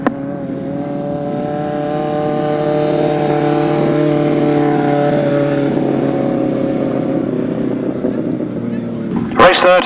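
Grasstrack sidecar racing motorbikes roar loudly and steadily for most of the clip at a season-finale meeting, a sustained engine drone with harmonic whine, ending in a brief sharp burst of noise.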